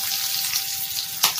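Onions hit hot oil seasoned with bay leaf, cinnamon, cloves and cardamom, giving a brief, close, hissing sizzle with a small splash or clatter near the end.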